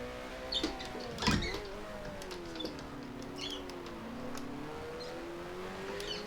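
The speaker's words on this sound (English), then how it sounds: "I'm hearing a car ahead of me" In the F1 Challenge racing game, a 1970-season Formula One car engine whines ahead, its pitch rising and falling through gear changes over the steady drone of the player's own engine, with a few brief clunks.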